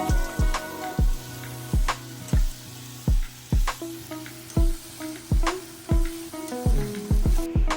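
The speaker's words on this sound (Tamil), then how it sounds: "கொஞ்சம் சின்ன வெங்காயம், 2 வத்தல், கொஞ்சம் கருவேப்பிலை எல்லாத்தையும் போட்டு வதக்கிடணும்ப்பா." Shallots, dried chillies and curry leaves fry in hot oil, a steady loud sizzle broken by regular rhythmic knocks of a ladle stirring against the pan.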